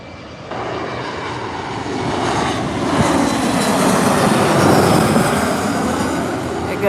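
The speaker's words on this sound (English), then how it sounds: "flight skimming the treetops, or so it appears" A United airliner passes low over treetops near LAX, its engine roar swelling from a steady rumble to a loud, broad drone that holds near its peak through the end, with no talking.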